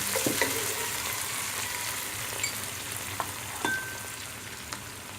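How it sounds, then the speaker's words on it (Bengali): Browned fried onions crackle and sizzle strongly in a pan after water goes in, the steady hiss broken by occasional scraping stirs and small clinks, close and without speech. "পেঁয়াজ বাদামি কালার ভাজা হয়ে গেছে। এখন এর মধ্যে আমি পানি দিয়ে দিচ্ছি।"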